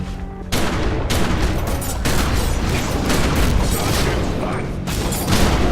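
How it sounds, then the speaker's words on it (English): Rapid gunfire in the game Secret World breaks out and keeps up as a dense, loud clatter of shots under game noise, with voices talking over it. "Nice shooting!"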